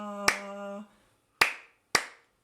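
Hands clap a simple rhythm, three sharp distinct claps spaced apart, the first overlapping a sustained sung or hummed tone.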